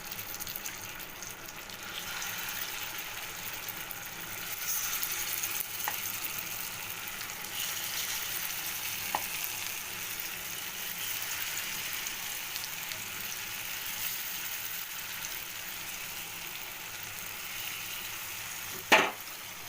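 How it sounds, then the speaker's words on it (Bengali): Raw banana koftas fry in hot mustard oil in a kadai, a continuous soft sizzle and crackle with a few faint pops and one brief clatter near the end, and no voices. "এবার কোপ্তাগুলো একটা একটা করে ভেজে নেব"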